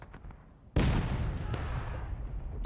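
A cannon fires canister shot in the War of Rights Civil War battle game at Dunker Church, one sharp heavy blast followed by a rolling, crackling boom and distant scattered gunfire, after a quiet lead-in.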